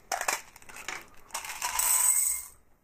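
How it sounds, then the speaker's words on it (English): Tic Tac mints tumble into a glass container as a loud cascade of small hard clicks and rattles, a quick scatter at first and then a denser pour before it settles, with no talking. "I drop it into my Tic Tac glass."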